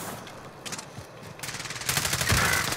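Video game gunfire, short bursts of automatic shots at moderate distance, sparse at first and then louder and denser toward the end, with no talk.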